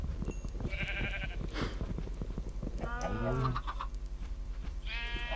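Sheep in a video game bleat several times in wavering cries over a steady rhythmic hum and ticking game sounds, while someone talks over them.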